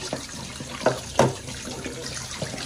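Petha gourd pieces washed under running tap water, a steady hiss of flowing water with a couple of louder splashes as the pieces are handled, close and fairly quiet.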